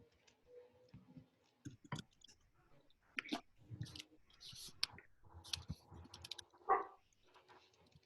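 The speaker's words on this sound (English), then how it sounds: "Why are you typing so slow?" Typing on a computer keyboard during an online chemistry class call: irregular, quick clicks and taps in scattered clusters, fairly close, with faint room noise and no speech.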